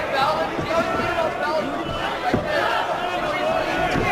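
Arena crowd at an MMA bout between Rockhold and Bisping, a dense continuous roar of cheering and shouting voices holding steady at full loudness throughout.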